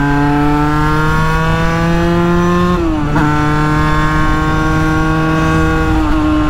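A 50cc moped engine droning loudly and continuously while riding, with a brief dip in pitch partway through as the revs drop and then recover.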